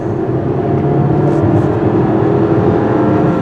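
Turbocharged four-cylinder engine of a 2023 Dodge Hornet GT+ revving under the hood, a steady dense snarling drone with a slight rise, heard from inside the cabin, no talking.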